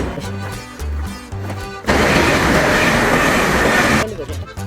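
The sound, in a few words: Elizabeth line train at a London station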